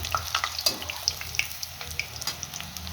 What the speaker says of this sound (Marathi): मस्तपैकी लालसर कलर येईपर्यंत डीप फ्राय करून घेऊया